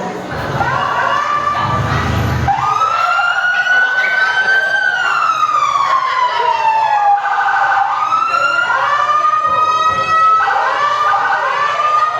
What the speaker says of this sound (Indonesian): Sesaat setelah kejadian terdengar suara sirene polisi.